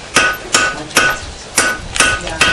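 A blacksmith hammering the point of a square nail on an anvil, six sharp ringing metallic strikes at a steady rhythm, close and loud with brief resonance after each blow.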